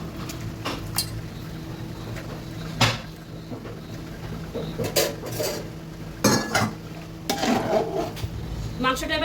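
Metal utensils clink and scrape against a pot as chicken is added while cooking biryani, producing scattered clanks and soft stirring sounds at close range.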